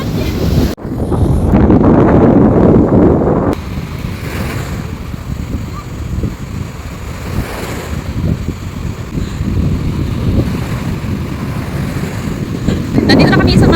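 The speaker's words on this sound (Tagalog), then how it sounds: "And ang lakas ng alon" Strong sea waves crash and roll onto a beach at Constanta, a loud continuous surf roar mixed with heavy wind buffeting the microphone for over ten seconds, with no clear talk.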